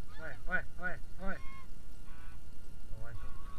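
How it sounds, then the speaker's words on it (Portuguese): A goose honks loudly and nearby on a dirt trail, giving four rapid nasal honks in a row and then a few fainter calls over steady background rumble. "Olha o ganso, olha o ganso, galera."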